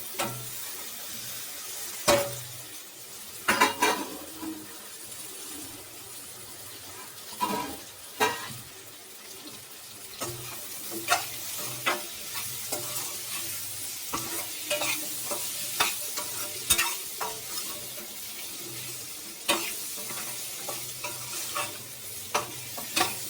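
Potato and raw mango pieces tipped into a pan of softened onions for a raw mango potato curry, followed by steady scraping stirs and a soft sizzle, with sharp utensil clacks recurring throughout at close range.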